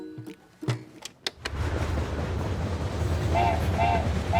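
After a few clicks and knocks, a train's steady rumble builds and rolls on, with a couple of short horn-like toots near the end.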